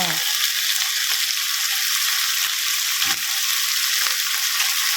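Clams sizzle loudly in a wok of chili and garlic for a roasted chili paste stir-fry, a steady, close, dense frying hiss with a couple of soft stirring knocks.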